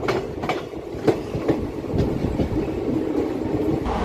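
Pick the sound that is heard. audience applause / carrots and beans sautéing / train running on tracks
train running on tracks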